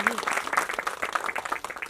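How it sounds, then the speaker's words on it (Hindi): Applause from an audience at a Hindi feature film trailer launch, a brisk wash of clapping of moderate loudness, with a voice speaking over it. "तो एक बार जोरदार तालियां पूनम जी के लिए"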